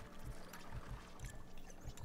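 Faint water sounds in the Mushroom 11 video game, a soft pouring, splashing wash with low rhythmic surges, quiet and alone.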